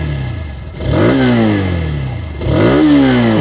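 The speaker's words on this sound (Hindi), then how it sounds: "अगर मैं आप लोग को यहाँ पर इसकी ये एग्जॉस्ट के बारे में बताऊँ तो चलिए एक बार मैं आप लोगों को सुना दूँ।" A 2023 Hero Xtreme 160R Stealth Edition 2.0 motorcycle with a compact exhaust revs twice close by, each blip rising sharply and then falling back to a steady idle, with no talk.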